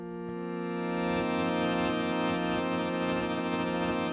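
An Arturia MicroFreak synthesizer plays a paraphonic chord with all voices sharing one filter, envelope and LFO. It gives a steady, buzzy, harmonically rich tone that swells in briefly and then holds evenly for about four seconds, with no talking.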